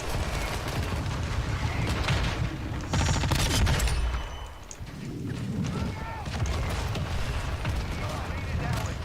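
Dense Warzone 2 gunfire, a sustained loud crackle of overlapping shots and explosions that dips briefly midway and then resumes, with indistinct voices underneath.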